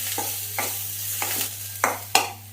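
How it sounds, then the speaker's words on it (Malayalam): A spatula stirs ground coconut paste with dried chillies and curry leaves in a pan for spinach thoran, making five close, rhythmic scraping strokes over a steady sizzle, with the last two loudest. No voices. "ഇനി നമുക്ക് അരച്ച് വെച്ചേക്കുന്ന അരപ്പ് ചേർത്ത് കൊടുക്കാം ഇതൊന്ന് ഇളക്കി കൊടുക്കാം"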